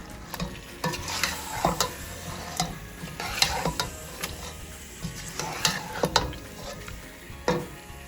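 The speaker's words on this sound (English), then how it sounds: "the Shan masala here, the whole thing, okay, and give it a good stir" A spoon stirs Shan biryani masala through a frying pot, rhythmic scrapes and knocks against the metal over a low continuous sizzle, close and fairly loud.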